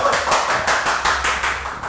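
Hands clap in a quick, steady run of about eight sharp, close claps, loud and evenly paced with no talking.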